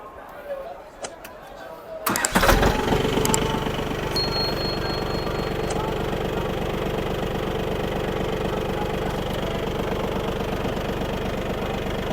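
At an agricultural exhibition, after a quiet stretch with faint voices, a tractor engine with power steering cranks and catches with a loud rumble, then settles into a steady, knocking idle.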